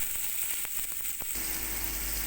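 Onion and garlic sizzle steadily in a hot pan, a soft continuous hiss with a few faint clicks and pops.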